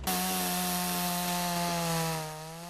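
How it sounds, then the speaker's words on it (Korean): A chainsaw cuts through the thick roots of a large pine tree being dug up for transplanting, running loud and close at a steady high pitch, then dropping slightly at the end. No voices. "이를 제거하는 데엔 전기톱이 제격이지만 늘 위험이 도사리고 있어 긴장된 순간이기도 합니다"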